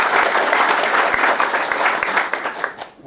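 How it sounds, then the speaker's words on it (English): An audience applauds a play called I Promise We Can at a new-plays event, a steady dense wash of clapping that stays loud and close before thinning and fading out near the end. "Hey, let's applaud for I Promise"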